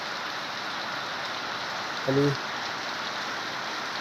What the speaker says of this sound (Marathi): तर आता पाहूया किती पाऊस पडतोय